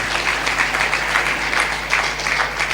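A congregation at a sermon claps loudly in a sustained, even burst of applause over a low steady hum.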